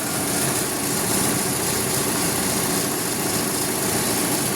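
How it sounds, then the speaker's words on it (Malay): Car engine idling steadily after two bottles of Cycopro additive and a 10 km drive, a continuous close, even hum with light vibration and no talk over it. "bunyi enjin je lah"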